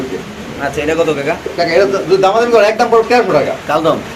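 A pigeon coos close by in a loft, its low throaty calls mixed in with someone talking over it.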